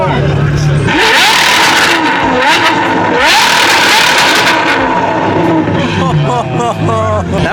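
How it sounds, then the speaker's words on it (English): A car engine revs hard and accelerates on a street, with several rising sweeps building loud and close, then gear-change dips near the end, while people talk over it. "That might be one of the best sounding cars."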